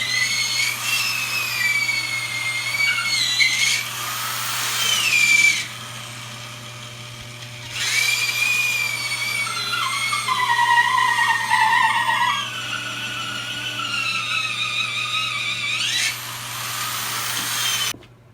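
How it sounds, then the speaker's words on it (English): A corded 1/2-inch Milwaukee drill runs in long loud bursts with whining, shifting pitch, boring through wood for a sauna base, stopping and restarting several times against a steady low hum. "The mighty power of the corded 1/2-inch Milwaukee drill."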